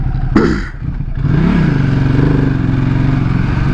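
A Ducati Multistrada 1260 S motorcycle engine rises in pitch under an easy throttle roll-on, a loud, close, sustained mid-range drone that climbs and levels off, preceded by a brief sharp transient.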